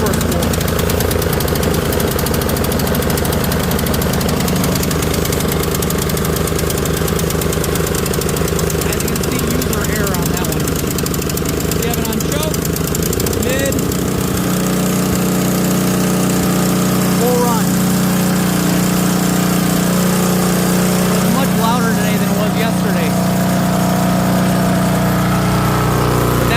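A Craftsman snowblower engine running close and loud, a rough rapid chugging that settles into a steadier higher-revving drone halfway through, with a voice talking over it.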